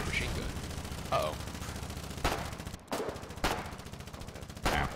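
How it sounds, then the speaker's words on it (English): Machine gun fire rattles in the war game Foxhole during colonial frontline fighting, a continuous loud stream of rapid shots with several heavier bursts and a brief gap. "they're shooting with a machine gun"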